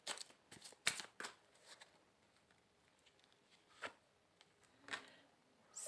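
Tarot cards are shuffled and drawn in a quiet room: several crisp, papery riffling bursts and flicks come at irregular intervals, close and fairly faint, with near silence between them and no talking.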